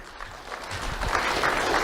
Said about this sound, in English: Let's have a round of applause for Jada Langford Fleming.